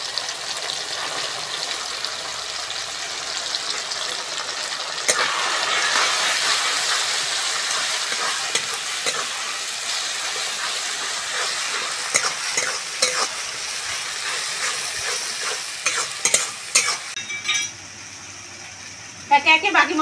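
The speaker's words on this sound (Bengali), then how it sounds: "এইবার কাঁচা লঙ্কা আর পেঁয়াজ বাটাটা দিয়ে দেবো।" Green chilli and onion paste fries in a pan after ginger and garlic, with a loud, continuous sizzle and repeated scraping stirs. Near the end the frying quiets and a few clattering knocks follow; faint voices sound in the background.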